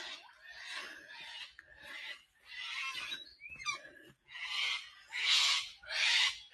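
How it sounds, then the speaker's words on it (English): Harsh, raspy screeches from cockatoos near Narrabeen Lagoon at daybreak, coming in a run of repeated calls with brief gaps, moderately loud and somewhat distant in open bushland. "There's those cockies again."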